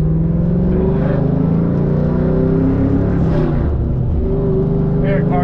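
A Pontiac GTO pulls away in first gear at about a quarter throttle from 0 to 40 mph, heard from inside: a loud, steady engine drone whose tone climbs and then drops as it shifts.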